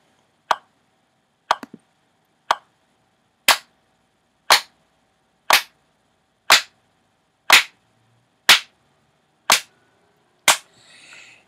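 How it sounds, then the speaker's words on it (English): A metronome clicks steadily about once per second, sharp and isolated against near silence, roughly eleven ticks. "If you practice with a metronome, the click that you hear, that's the beat."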